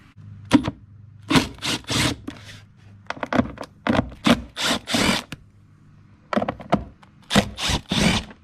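T30 Torx screws are backed out of an interior panel on an Audi B8.5 S4 with a hand tool. Close, rough scraping and grinding bursts come in irregular groups separated by brief quiet gaps, and no one speaks.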